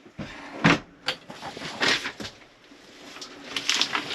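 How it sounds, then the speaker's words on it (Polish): A few short clicks and clunks of a Deutz-Fahr 6170 tractor cab door opening by its handle, close and fairly loud, with a light rattle of the latch and handle. "otwieranie drzwi"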